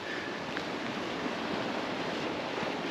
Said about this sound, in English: when the tide come in and the waves pulling the rocks back in